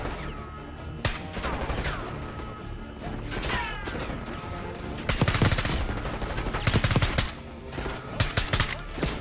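Dense bursts of automatic gunfire and sharp single shots in Call of Duty Black Ops 6 campaign combat, crackling close and loud in repeated volleys with impacts and crashes between them, no talking.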